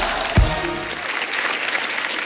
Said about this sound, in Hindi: बुधवानी साहब के लिए जोरदार तालियां